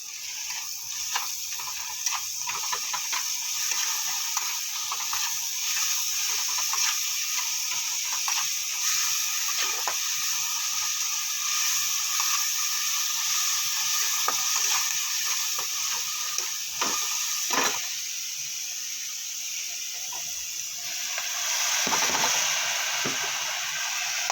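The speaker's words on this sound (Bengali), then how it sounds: "আমি শাক ভাজিটা করার জন্য পেঁয়াজ আর শুকনো লঙ্কাকে ভাজি করছি" Onions and dried red chillies frying in oil for a leafy greens stir-fry, with garlic paste added; a steady close hiss and sizzle runs throughout with occasional stirring scrapes, no talking.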